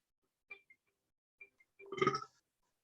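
A few small clicks, then one short, gravelly forced burp lasting about half a second, close and fairly quiet.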